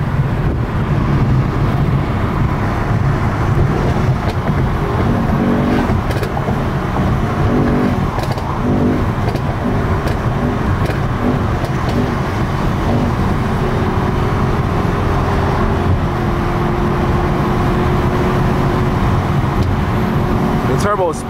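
A Mercedes-AMG E63s with a spooled turbo engine pulls hard on a highway at night, a steady loud drone full of road and wind roar, as people talk and shout over it.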